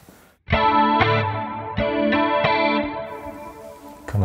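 A clean electric guitar through a Line 6 Helix with reverb, its short pre-delay and room size adjusted. A few strummed chords ring out close and full, each swelling into a shimmering wash with a chorus-like sheen, without voices.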